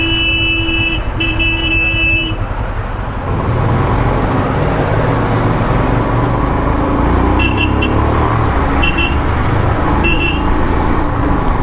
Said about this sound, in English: A couple of lorries coming through.